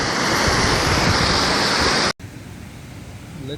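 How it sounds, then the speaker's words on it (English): Powerful waterfall roaring up close near a mountain campsite, a loud dense rushing wash that cuts off abruptly, leaving a quieter background of distant water and faint bird chirps. "Let me show you this beautiful waterfall"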